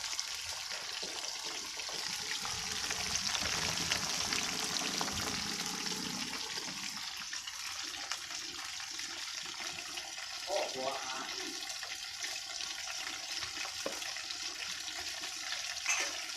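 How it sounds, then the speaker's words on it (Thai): Tilapia frying in hot oil gives a steady, crackling sizzle throughout, with faint voices murmuring in the background. "ตอนนี้กำลังทอดอยู่นะครับกำลังทอดอยู่"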